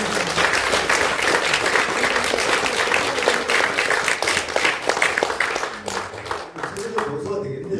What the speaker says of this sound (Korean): 박수 주십니다